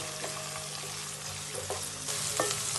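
Cumin seeds and curry leaves fry in a pan for a pumpkin sabzi, making a dense, steady sizzle over a low hum, with a few clicks and stir scrapes and a louder burst of crackling toward the end.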